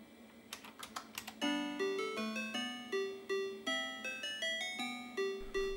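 Creative SoundBlaster 16 sound card running its DOS test utility, producing a rapid run of bright synthesized tones: a few sharp clicks, then a steady sequence of bell-like notes stepping through pitches, loud and clean with no talking.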